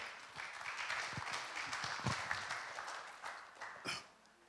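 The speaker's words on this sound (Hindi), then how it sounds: "क्यों ना जोरदार तालियों के द्वारा उनको स्वागत करें।" A church congregation at a Sunday Hindi service claps to welcome the senior pastor, a steady wash of many hands applauding at moderate distance, fairly faint, with a few sharper individual claps standing out before it fades.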